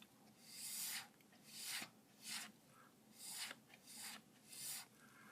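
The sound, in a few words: scraping heavy black acrylic paint off a pour painting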